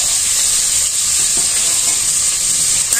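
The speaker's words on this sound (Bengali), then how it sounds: "জিরা ফোড়ন দেওয়া হইলো মাছের লগে দিয়ে দিলাম একবারে" Fish frying in hot oil with a cumin tempering gives a steady, loud sizzle and hiss that fills the whole stretch, with faint stirring scrapes underneath and no talking.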